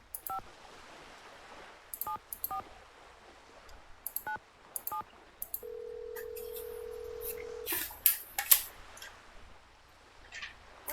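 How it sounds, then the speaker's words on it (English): A telephone is dialed in the Nancy Drew: Danger on Deception Island game: a quick series of keypad tones, then a steady tone of about two seconds, followed by a cluster of sharp clicks and beeps, with no voices. "Should probably call that person of the phone number I got."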